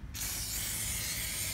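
An aerosol can sprays RP-342 cosmoline anti-rust protectant onto truck frame bolts, a sudden close hiss that starts after a brief pause and holds steady to the end.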